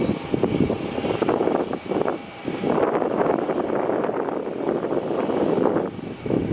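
An airplane on the runway at Melbourne Airport makes a loud, rumbling engine roar, heard close and continuous with heavy wind buffeting the microphone and brief dips in level.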